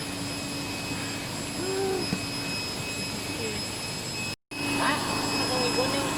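A steady mechanical blower drones continuously as inflatable rafts are pumped up at a river rafting start point, with a brief dropout midway and faint outdoor sounds alongside.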